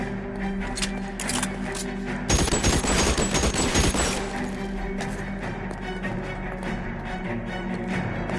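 Thompson submachine gun firing in L.A. Noire, a loud sustained burst of automatic fire over ongoing shooting and crashes, close and dense for a couple of seconds, then easing back to a busy firefight.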